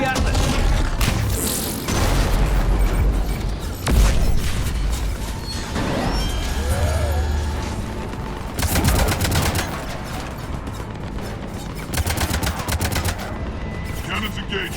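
Repeated heavy booming cannon blasts and bursts of rapid fire in a busy Mass Effect 3 soundscape, loud and close, with brief pauses between volleys.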